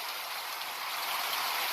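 A downpour of heavy rain hisses continuously and close, a thick uniform roar of drops striking the ground and nearby surfaces, heard alone without speech.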